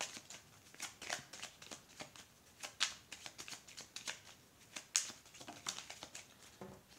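A deck of tarot-style cards is cut and riffled by hand, producing a steady run of close, crisp papery flutters and soft slaps with no talking.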